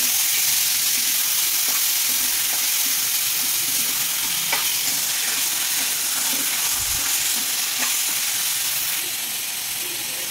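Minced mutton keema fries in a pan with a loud, dense, steamy hiss that holds steady, and faint stirring scrapes and clicks come through now and then.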